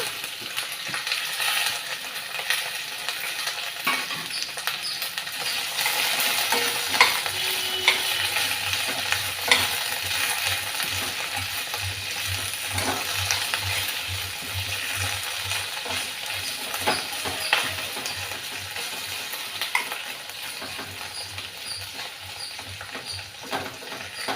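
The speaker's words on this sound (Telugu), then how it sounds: "బెండకాయ ముక్కలు వేస్తున్నాను ఈ యొక్క ఐదు నిమిషాలు వేయించుకోవాలి" Okra pieces frying in a pan for a tomato curry, a steady close sizzle with occasional stirring scrapes and soft pops running throughout, no voices.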